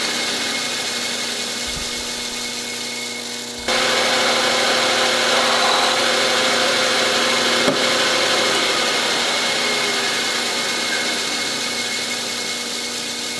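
Machine counterboring a hole during a slow speed carbide grinder build: a loud, steady motor drone running throughout, jumping slightly louder partway through and holding at a constant pitch.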